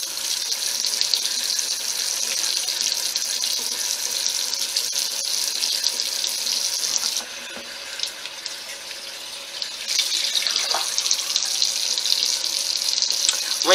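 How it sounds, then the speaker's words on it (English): Warm tap water runs steadily into a sink while a face is rinsed during a skincare routine. The flow dips briefly partway through as hands move under the stream, then resumes. "Rinse this off with warm water as well."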